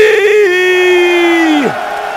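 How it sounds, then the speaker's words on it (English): Esports audience at the MLG Columbus 2011 StarCraft II event greeting a player: a single loud sustained whoop or yell that holds steady for over a second, then drops off sharply and leaves a thinner crowd murmur. "give a cheer for oGsMC!"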